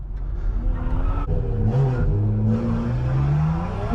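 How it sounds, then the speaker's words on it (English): A twin turbo 2J Mustang drifting on a track, its engine loud and near, revving and rising in pitch with tire scrub beneath, continuous throughout. "Twin turbo 2J Mustang."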